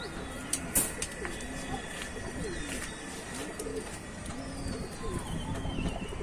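Pigeons coo with soft, repeated throaty rolls at a pigeon seller's loft, close and moderately loud, over a steady background hum, with a few sharp wing or cage clatters and a voice talking.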